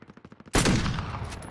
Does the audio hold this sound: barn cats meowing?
no